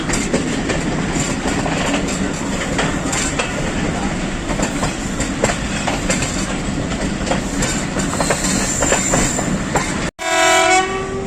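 A Pakistan Railways passenger train runs from Rawalpindi after leaving Kot Najibullah, heading toward Haripur Hazara. It rolls with loud, continuous rumbling and clickety-clack of the wheels, and the horn blares briefly near the end.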